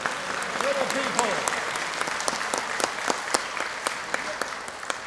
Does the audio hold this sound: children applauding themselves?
yes